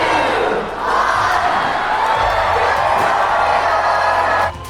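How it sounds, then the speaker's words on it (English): A large crowd cheers and shouts in a cruise ship promenade during an evening special event: a loud, sustained roar of many voices that cuts off abruptly near the end. "A big crowd gathered in the promenade later that evening for a special event."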